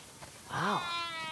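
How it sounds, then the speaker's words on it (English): A single wavering sheep bleat from The Last of Us Part II, heard during a game scene of herding sheep toward a barn. The call is close and fairly loud, rising then falling in pitch, with no other sound around it. "Wow, that's a lot of sheep."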